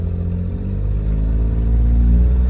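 A Honda Z (GF-PA1) with an aftermarket Fujitsubo exhaust idles with a deep, throaty rumble, then revs up gradually and holds a louder growl, close by and with no talk.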